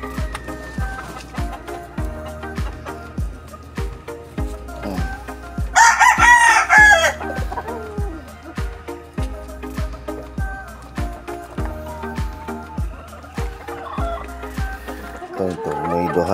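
A rooster crows once, loud and close, amid clucking chickens, heard on a hike on Mt. Balagbag over a steady rhythmic beat of background music, with people talking nearby.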